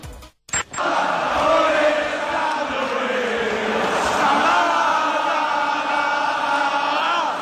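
A large crowd of English football fans at Anfield stadium sings a sustained chant for Mo Salah, the massed voices loud and continuous after a brief cut at the start, echoing across the stands.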